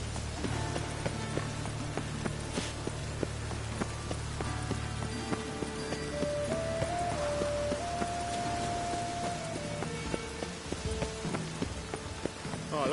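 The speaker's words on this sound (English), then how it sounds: "I like rain." Steady, quiet rain in The Witcher 3: Wild Hunt patters throughout as a soft, even hiss, with faint tonal sounds drifting in briefly partway through.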